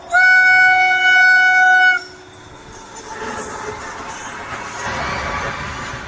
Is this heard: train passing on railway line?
yes